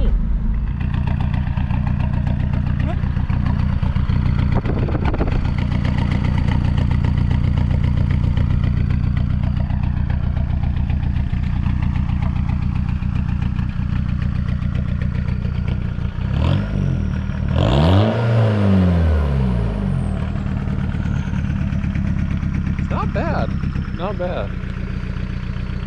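Modified VW Jetta TDI diesel engine idling with a loud, steady clattering rumble, then revved in a sharp rise and fall before settling back to idle; voices speak briefly over it.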